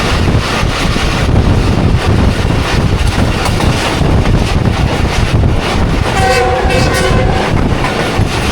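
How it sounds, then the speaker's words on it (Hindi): A passenger train rolls into a city with a loud steady rumble, wheel clatter and wind buffeting the microphone, and a horn sounds near the end. "शहर में इंटर हो चुकी है ट्रेन हमारी।"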